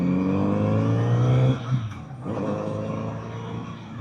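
Kawasaki Z900RS four-cylinder motorcycle engine revs loud and close with a steady harmonic drone, then dips sharply around a gear change before pulling strongly again.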